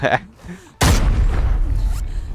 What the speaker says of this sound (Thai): เอาระเบิดเลยเออปาไป